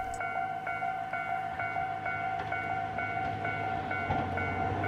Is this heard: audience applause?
no